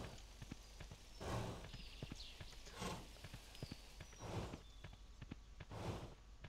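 Horse hooves clip-clop in the video game Kingdom New Lands, a quiet, even walking rhythm of soft knocks with periodic swells of ambient game sound behind.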